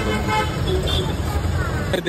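Busy street traffic with car horns tooting and vehicle engines rumbling close by. A voice talks over the steady, loud road noise.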